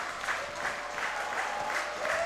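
Baseball fans clapping along at Labatt Park during an IBL game between the Guelph Royals and London Majors: a steady, rhythmic crowd clap, about six beats over a couple of seconds, with a distant crowd murmur beneath.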